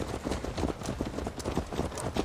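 Horse hooves clip-clop in a quick, even rhythm on a road in Assassin's Creed Valhalla, the steady walking beat continuing throughout at moderate volume with a faint background bed.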